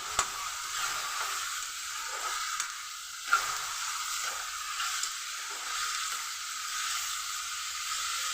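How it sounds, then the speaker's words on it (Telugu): Tomatoes sizzle steadily in hot oil in a pan as a mutton curry is cooked, with a few soft scraping knocks from stirring over a constant frying hiss. No one speaks. "టమాటాలు కూడా వేసేసాను ఒకసారి కలుపుకుందాం"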